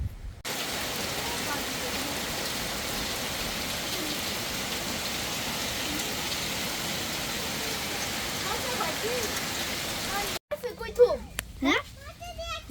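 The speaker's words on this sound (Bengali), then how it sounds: "দেখি এই যে বৃষ্টি পড়তেছে" Steady rain falls on a village during a fishing trip, a dense even hiss lasting about ten seconds before it cuts off and gives way to a short stretch of nearby voices and movement.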